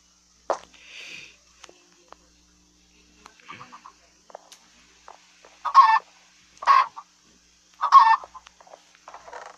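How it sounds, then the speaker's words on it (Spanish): A few short bursts of Minecraft Pocket Edition chickens clucking, loud and close, separated by quiet gaps with small clicks. "Pobrecitas gallinas."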